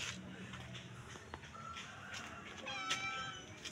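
A cat meows several times at close range, the calls rising and wavering, over a busy outdoor background with faint voices.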